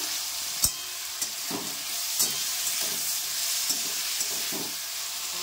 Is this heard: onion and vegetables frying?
yes